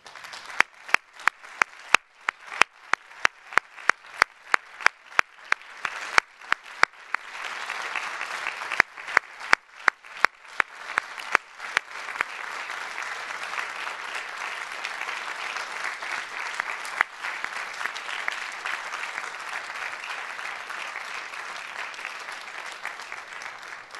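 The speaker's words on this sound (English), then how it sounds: "Will the candidates stand so we may give them a final round of applause" Graduates and guests applaud Ph.D. candidates at the 2012 GSAS doctoral convocation. A few sharp individual claps open, then swell into broad, sustained crowd applause that carries on steadily at a moderate distance.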